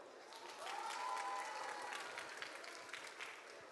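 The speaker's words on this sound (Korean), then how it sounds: "여러분 박수 부탁드립니다." Applause from an audience at a Korean vocational education fair talk, a short burst of clapping that swells and then trails off, heard from some distance at fairly low level.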